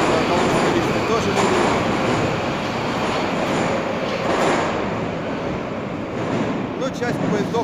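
Moscow metro train pulling away from Turgenevskaya station on a winter evening: a steady, loud rumble of wheels and carriages fills the whole clip, with rail screeches and clatter rising as it gathers speed.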